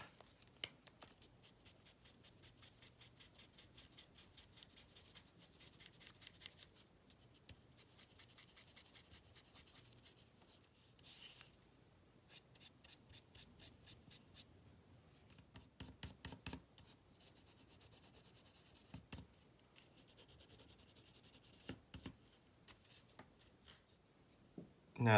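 Colored pencils scratch back and forth across a paper holiday card while a scarf is colored in. The strokes are rhythmic and rapid, come in bursts with short pauses, and sound close and soft, with no talking.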